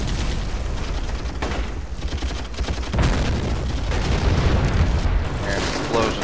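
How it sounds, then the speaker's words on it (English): Repeated explosions and gunfire rumble and crack through a war strategy video game battle at an airbase, dense and loud with overlapping booms throughout. "There's explosions."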